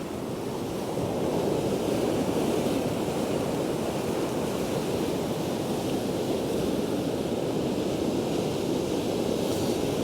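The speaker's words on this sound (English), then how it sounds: "There's some huge waves rolling in." Big waves roll in on the beach at Happisburgh, making a loud, continuous roar of surf mixed with gusting wind buffeting the microphone.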